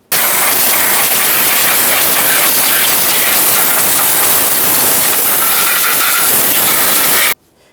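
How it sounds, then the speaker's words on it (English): A compressed air nozzle blows debris off the top of a 3.5L V6 engine in a Toyota Sienna. A single loud, continuous hiss starts abruptly, holds steady for about seven seconds close to the microphone, and then cuts off. "use some compressed air, blow it all out of there so nothing can fall inside of the engine"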